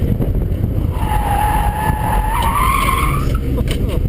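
A Nissan truck skids through an autocross corner, its tires squealing in a rising, wavering whine for about two and a half seconds over steady, loud engine roar.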